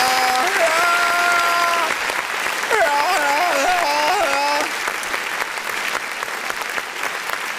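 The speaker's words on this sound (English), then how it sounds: "let's go ahead and hit that clap button" Canned applause sound effect triggered by a clap button during a live music review stream, a dense burst of clapping and crowd noise with a synthetic rising tone layered over the first few seconds, fading to steady clapping.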